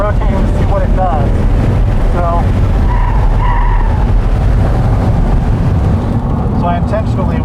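A C8 Corvette on track rotates under trail braking and off-throttle coasting, with loud, steady engine and road roar, tire squeals rising and falling, and heavy wind buffeting the microphone.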